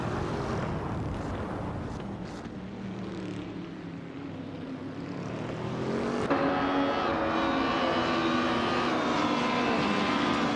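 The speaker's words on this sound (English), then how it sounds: "Bot Tibom is driving a 2014 BMW M235 iRacing, which is known for its balanced performance and good agility." A 2014 BMW M235 race car in the iRacing sim, its engine droning steadily and then rising sharply in pitch and loudness partway through, with no talk.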